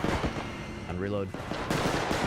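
Six-shooter revolver fire in the Bodycam video game, loud sharp bursts at the start and end with a brief tonal lull between, and a voice talking over it.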